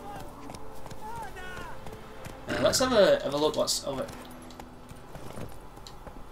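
Horse hooves clip-clop in The Witcher 3: Wild Hunt, a short burst of quick hoof steps in the middle, with someone talking over the game sounds throughout.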